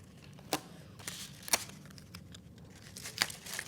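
Strips of tape tear off a roll during a paper-chain craft, three quick, sharp rips spaced about a second apart, close and otherwise quiet, with faint paper rustling between.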